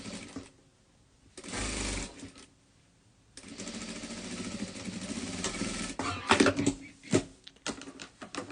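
A sewing machine stitches around the edge of fabric for a garment, whirring in two runs: a short burst, a pause, then a longer steady buzzing with a few clicks and handling noises near the end.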